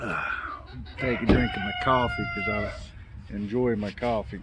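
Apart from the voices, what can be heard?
roosters crowing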